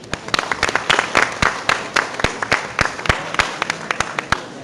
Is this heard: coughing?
no